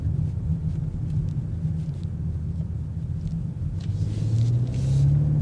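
2026 BMW M5 Touring, a 717 HP wagon, accelerating, heard from inside as a deep steady engine rumble that rises in pitch near the end under full throttle.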